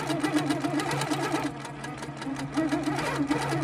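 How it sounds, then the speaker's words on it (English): A Husqvarna Viking Q160 quilting machine stitching a single line, its needle hammering in a fast, even mechanical rhythm that eases briefly midway and then picks back up, close and clear with no talk. "I'll just do one quick line of stitches just so you see how easy it is. So here's my ruler and away I go."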